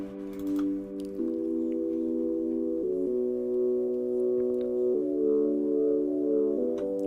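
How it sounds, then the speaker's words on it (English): Synth chords swell behind a low-pass filter that gradually opens toward fully wide, the sustained notes shifting pitch every second or two and growing brighter across the passage, played alone with no voice. "I actually added a filter so it could go from low pass to very wide open."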